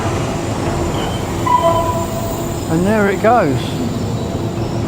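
A train rounds a very tight curve, its wheels giving a squeal that rises and falls in bursts, audible under a voice against steady rumbling rail noise.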